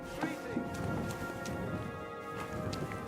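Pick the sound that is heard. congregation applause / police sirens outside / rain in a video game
rain in a video game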